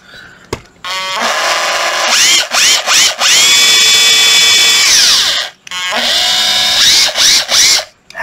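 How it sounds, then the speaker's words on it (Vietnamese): Makita 14.4V cordless concrete hammer drill whirring loudly in several bursts, winding up and spinning down between runs with brief pauses; no talking. "Đây có một con khoan bê tông Makita"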